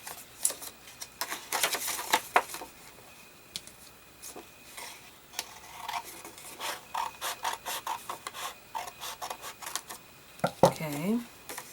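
Scissors cutting folded paper in half for a pinwheel, a run of close, crisp snips and rustles in a quiet room, with paper crinkling near the end.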